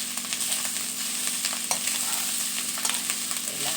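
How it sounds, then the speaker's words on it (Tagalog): Rice fries in a pan for a breakfast of garlic-style fried rice, giving a steady close sizzle broken by light scraping stirs. "magsangap na po ako ng kanin namin"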